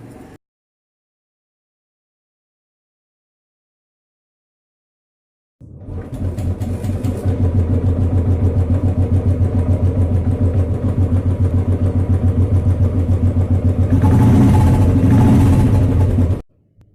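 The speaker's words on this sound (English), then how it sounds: "Let's start the bike, let's hook up the unit and let's take the reading." A Royal Enfield motorcycle engine starts after about five seconds of silence, then runs loud and steady at a fast idle with a rough, throbbing low rumble until it cuts off near the end.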